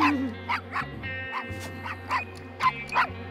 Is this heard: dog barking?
yes